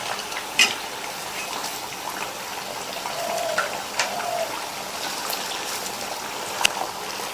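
Susiyam snacks deep-frying in hot oil on a low flame, a steady soft sizzle and bubbling hiss that runs the whole time with a few brief pops, no one talking.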